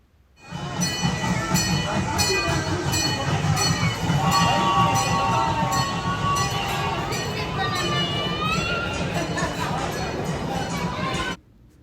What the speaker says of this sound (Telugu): ఇప్పుడైతే ఇంకొక ట్రైన్ వెళ్తుంది